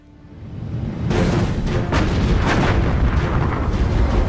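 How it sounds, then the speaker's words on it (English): Massive main guns of the Bismarck battleship fire, a swelling roar that breaks into heavy, booming blasts and rumbling reverberation, loud and sustained with no speech over it. "the massive guns of Hitler's superweapon have obliterated the pride of the British Navy"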